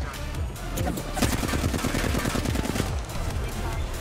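Rapid automatic gunfire bursts in the Apex Legends video game, dense rattling shots continuing throughout at close range, mixed with game sound effects and faint player voices.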